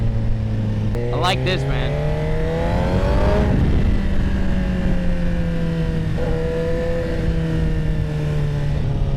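A 2025 Suzuki GSX-R1000R sport bike accelerates hard, its engine note climbing through quick, crisp shifts with brief pops and then settling into a steady, loud drone, while a rider talks over it.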